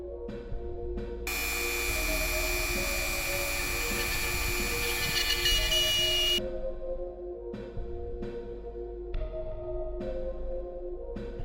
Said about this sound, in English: I'm just going to use my Dremel to make the hole in the hand a touch bigger.